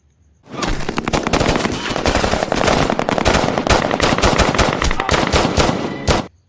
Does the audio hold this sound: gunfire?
yes